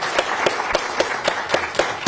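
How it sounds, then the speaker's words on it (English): An audience at a Montgomery city election candidate forum applauds the District 9 City Council candidates, a steady ripple of clapping from a modest crowd that carries on throughout. "Let's give them a round of applause."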